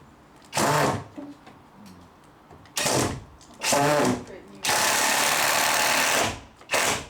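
Power drill bursts driving screws into a prefabricated garden room wall frame, several loud whirring runs of about a second, one longer sustained run, with people talking in between.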